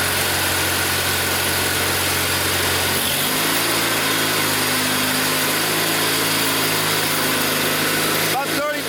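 A Kohler Magnum engine on a Simplicity Sunstar tractor idles steadily near 1680 rpm, then revs up and holds a higher, even drone around 3350 rpm.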